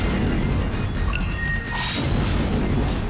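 A vital cannon attack in the Trails in the Sky 3rd video game lands as a loud, dense booming blast over game sounds, with a brief bright ring and a crash partway through.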